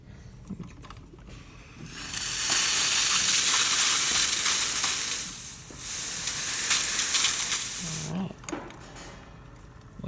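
The steam wand of a La Pavoni espresso machine hisses loudly after an overheating service, with two long steady bursts of hiss separated by a brief dip and quiet stretches on either side.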